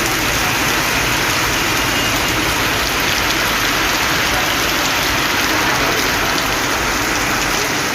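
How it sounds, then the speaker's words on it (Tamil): Heavy overnight rain in Tiruvarur district, Tamil Nadu, pours down as a dense, loud, unbroken hiss, with no voices. "திருவாரூர் மாவட்டத்தில் நேற்றிரவு பரவலாக கனமழை கொட்டியது"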